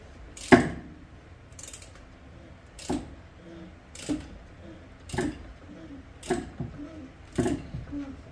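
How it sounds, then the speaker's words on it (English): Ratchet wrench clicking on a Honda Civic during engine work near a pulley, heard as about seven sharp, evenly spaced ticks at close range over faint background noise. "Need to flip the direction on my ratchet here. And then just go around."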